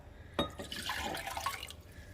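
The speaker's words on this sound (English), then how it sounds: "I'm going to add 1 cup of chicken broth." A cup of chicken broth is poured into a pan of chicken and broccoli stir-fry, giving a short, close splashing trickle of liquid that starts with a sharp splash and fades after about two seconds.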